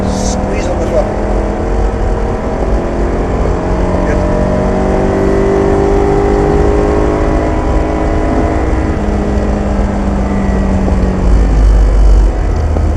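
A single-seater race car engine drones loudly and steadily under throttle on a circuit, a sustained close roar from inside the car with a voice talking over it.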